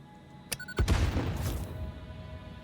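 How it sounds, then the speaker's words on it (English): An in-game explosion in Satisfactory: a sharp crack followed by a heavy, booming burst that rolls on and slowly fades, heard alone at moderate loudness. "Here, look for the explosion."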